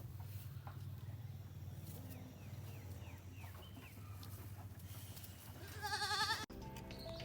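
A ewe goat bleats near the end of the clip, a loud, wavering cry, while chickens cluck and call faintly in the background on a Jamaican farm.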